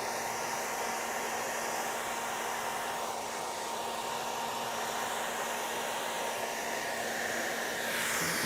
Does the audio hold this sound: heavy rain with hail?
no